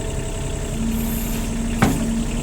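Excavator diesel engine idling steadily with a low, even rumble and a constant hum, joined near the end by a brief mechanical clunk, close and alone.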